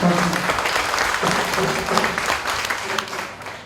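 A university labour union's general assembly applauds in approval, producing a steady wash of many hands clapping at moderate volume with crowd murmur mixed in.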